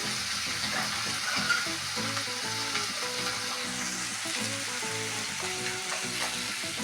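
Koi fish frying in hot oil with turmeric just added, a loud, dense sizzle and crackle that carries on continuously with stirring scrapes mixed in.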